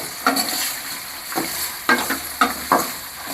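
Onions cooking with a little salt in a pan for garlic pepper kuzhambu give a steady, close sizzle, broken every second or so by the scrape and clatter of stirring.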